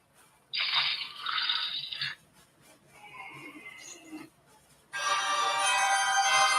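A phone ringtone called the scary call plays in short eerie bursts separated by gaps, ending in a louder sustained burst, fairly faint overall.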